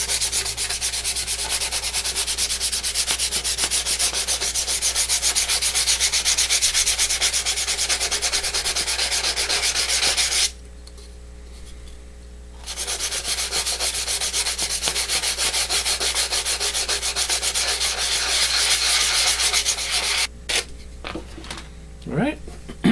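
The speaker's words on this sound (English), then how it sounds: "I like to do a little bit of sanding" Steady, scratchy sanding rubs on a balsa model rocket fin with fairly coarse sandpaper, continuous and close for about ten seconds, pausing briefly, then resuming before a few scattered handling clicks.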